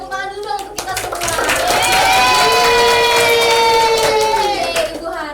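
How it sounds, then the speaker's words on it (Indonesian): Students in a classroom clap together while voices call out and cheer over the rhythmic patter of hands. "kita beri tepuk tangan dulu dong untuk kita semua."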